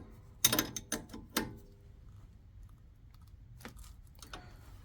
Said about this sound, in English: So we can just tighten that up with the 14mm spanner